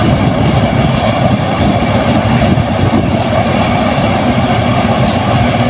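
A passing train rolls by near a village field, a loud, continuous rumble that holds steady throughout, close and without speech.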